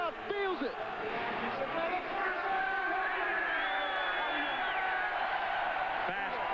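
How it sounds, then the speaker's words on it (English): Stadium crowd at an XFL football game in New York, a loud sustained roar of cheering and shouting throughout, with a commentator's voice over it. "And this crowd, listen to this crowd, man."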